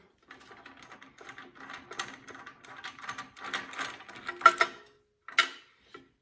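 A ratchet and 13/16 socket loosen the spark plug on a Yard Machine 8HP snow blower, giving quiet close-up metallic clicks and scrapes in short irregular bursts, with a couple of sharper ticks near the end.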